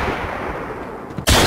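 Pistol fire in the horror video game Blinding Dark, a loud, sharp shot bursting out at the very end after a stretch of dense game noise.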